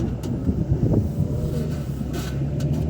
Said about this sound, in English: traffic, here we go